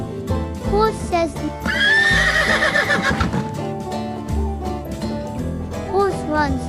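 Horse neighing on a farm: a loud, long whinny that rises and then trails off, with a shorter whinny near the end and faint hoof clip-clops, heard up close over background music.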